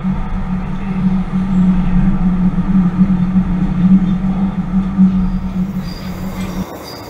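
A Tyne and Wear Metro yellow line train arrives at Monument station in a tunnel, heard from the driver's cab: a loud, steady rumble of wheels on rail with a persistent tonal drone that drops away as it slows near the end.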